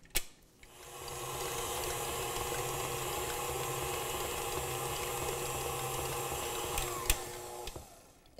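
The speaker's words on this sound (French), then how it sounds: "Donc, un petit coup de batteur." Electric hand mixer beating chocolate batter for chocolate bread, a steady close motor whir with rattling beaters running continuously for several seconds before switching off.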